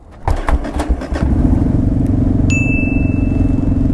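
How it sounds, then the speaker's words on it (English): A motorcycle engine cranks, fires and is revved in short bursts before settling into a steady close idle, with a brief high electronic tone partway through. "we rev our engines"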